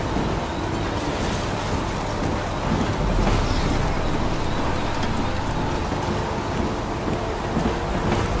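Heavy rain pours with rolling thunder in the Heavy Rain video game, a dense and continuous hiss over a low rumble that swells midway. It stays loud and enveloping throughout, with no speech.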